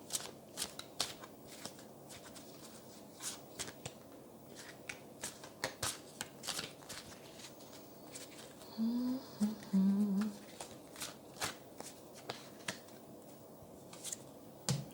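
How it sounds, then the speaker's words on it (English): Tarot cards are shuffled and drawn for a pick-a-card reading, giving repeated soft riffling flicks and snaps spread across the span, close and fairly quiet, with a brief muffled voice in the middle. "Let's draw maybe one more card."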